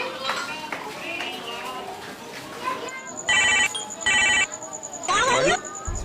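A telephone rings in three loud electronic bursts, close and insistent, after a stretch of people and children talking in a house.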